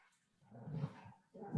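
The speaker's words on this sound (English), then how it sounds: "I've got dogs playing in the background" Dogs playing in the background give short, muffled barks and yips in two brief bursts with a pause between, faint and somewhat distant.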